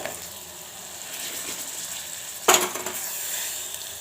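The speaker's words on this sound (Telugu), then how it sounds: "ఇప్పుడు ఈ కాకరకాయ ముక్కల్ని కూడా వేసేసుకోవాలి" Bitter gourd pieces hit hot oil in a pan with a sudden clatter, and the quiet background sizzle swells into a brighter, crackling fry that continues close by.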